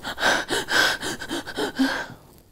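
A voice imitates a child sniffling: a series of short, wet nasal sniffs in an uneven rhythm, close up, trailing off at the end.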